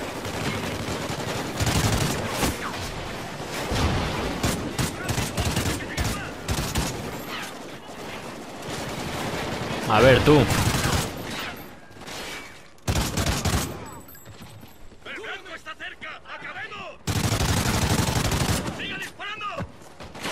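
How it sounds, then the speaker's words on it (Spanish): Gunfire in the video game Call of Duty Ghosts crackles in loud, repeated bursts and fusillades, interspersed with brief pauses while someone speaks Spanish over the action. "me dan tiros y no sé ni de dónde"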